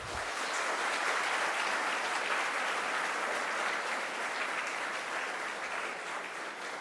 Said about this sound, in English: give a round of applause for Surya Kumar